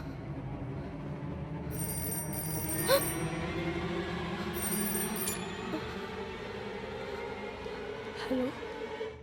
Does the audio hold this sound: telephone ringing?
yes